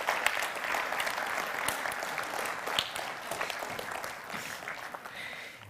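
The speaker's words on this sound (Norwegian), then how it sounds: "kan vi ikke gi en applaus til dem når de kommer frem her" A church congregation at a Sunday service claps for a family bringing a small boy forward, a moderate, fairly close patter of hands with a few sharper claps standing out, continuing without a break before easing off slightly.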